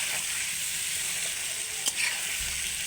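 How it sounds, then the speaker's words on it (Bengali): Chicken and potato korma sautés in a pan with a loud, steady sizzle throughout and one brief clack of a utensil. "এবার একটু ভালো করে কষে নেব"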